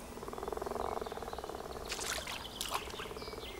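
A grass frog calls in a rapid rippling croak near a wetland in spring, the pulsed chorus steady at first, then broken by brief higher rustles and splashes toward the end.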